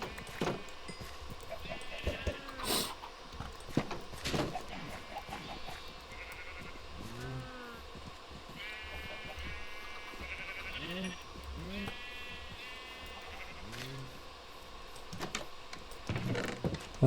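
Minecraft sheep bleat repeatedly in short wavering calls scattered across a farm scene, mixed with keyboard clicks and game sounds, a voice talking quietly at times.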